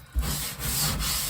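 A stiff bristle brush scrubs hard against a surface in a brief, close burst of rough rasping strokes, with no voices.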